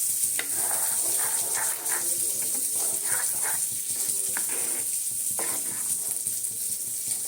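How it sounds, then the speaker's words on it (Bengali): Carrot halwa with sugar being stirred in a pan, producing a steady run of soft scraping strokes and a faint sizzle, close and continuous with no talking. "চিনিটা দিয়ে এবারে নাড়াতে থাকবো"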